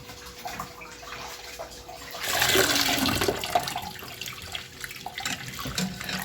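Millet grains are rinsed in water, a quiet start followed by a strong rush of running, splashing water for about a second, then fading back to gentle trickling, with no talking.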